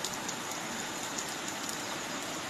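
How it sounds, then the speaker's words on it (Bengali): Heavy early-morning rain falls in a continuous, uniform roar of pattering drops, steady and close, with no voices. "ঝমঝমিয়ে বৃষ্টি শুরু হয়েছে।"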